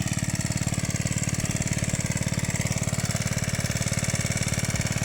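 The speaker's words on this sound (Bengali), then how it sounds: "ইতিমধ্যে আমাদের সেচ মেশিন চলছে।" Irrigation pump engine running beside a fishing spot, a steady rapid chugging putter, close and even throughout with no voices.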